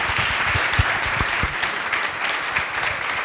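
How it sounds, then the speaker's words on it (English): An audience applauds panelists after a discussion on protecting email inboxes from phishing, a dense, steady clapping heard fairly close and alone for a few seconds. "would you please give our panelists a round of applause?"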